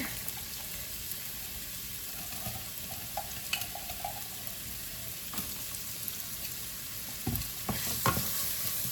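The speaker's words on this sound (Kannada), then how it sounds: "ಆನಿಯನ್ ಸ್ವಲ್ಪ ಫ್ರೈ ಆಗಲಿ" Onions frying with ginger garlic paste in a pan make a steady, close sizzle, broken by occasional spoon scrapes and clinks that grow more frequent toward the end.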